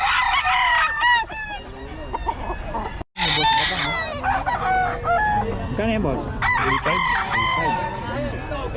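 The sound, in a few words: roosters crowing at a cockfight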